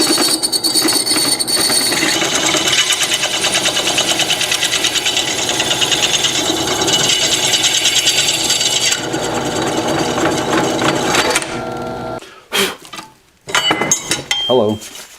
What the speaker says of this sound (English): let's see if we can drill this thing out.